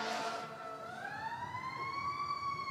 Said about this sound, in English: Aren't they supposed to go fast when the sirens are going like this?